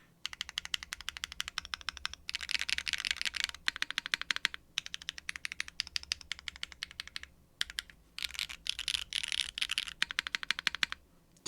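Fast typing on a KBDFans Agar curved mechanical keyboard, crisp clacky keystrokes in bursts with short pauses, close and clear with no voices.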